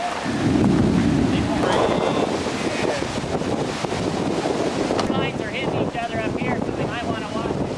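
A summer thunderstorm over the Tippecanoe River, with steady heavy rain and wind buffeting the microphone, thunder rumbling loud and close throughout, and a faint voice in the background.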